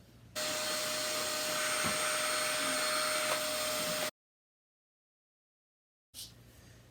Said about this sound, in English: Now you want to vacuum the bed itself, the floor of course, and your curtains.